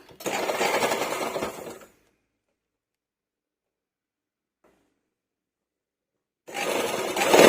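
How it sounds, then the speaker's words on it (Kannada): Sewing machine stitching the side seam of a blouse, a loud steady mechanical whir for about two seconds, then silence, then the motor starting up again near the end. "ಇವಾಗ ಸೈಡ್ ಸ್ಟಿಚ್ ಮಾಡ್ಕೊಳ್ಳೋಣ ಸ್ಲೀವ್ಸ್ ಮತ್ತು ಸೈಡು ಸ್ಲೀವ್ಸ್ ಆಲ್ರೆಡಿ ಮುಂಚೆನೆ ಎಲ್ಲಿಗೆ ಫಿನಿಶಿಂಗ್ ಮಾಡಿದ್ವಿ ಅಲ್ಲಿಗೆ ಫಿನಿಶ್ ಸ್ಟಿಚ್ ಮಾಡ್ಕೊಳ್ಳಿ"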